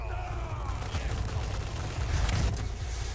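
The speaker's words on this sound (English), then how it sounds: "so they're all trying to shoot him" Gunfire in the video game Resident Evil 4 remake on its hardest difficulty: a steady rumbling barrage of scattered shots over a low, booming bed, swelling louder near the end.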